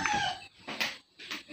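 Chickens near a hut in the Philippines, a few short clucks and squawks in quick bursts separated by brief quiet gaps, fairly close and moderately loud.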